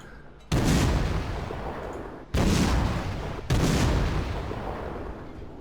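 Heavy naval guns fire from a Sims tier VII destroyer in World of Warships: three loud, deep booming salvos, each with a long rumbling tail, spaced a second or two apart.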